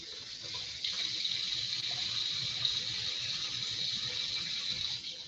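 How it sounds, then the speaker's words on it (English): Tap water gushes steadily into a sink while deer meat is rinsed for jerky, a continuous close hiss and splash that carries on evenly with no talking. "you can see the water in there is still a little bit bloody, so we'll just rinse it a little bit"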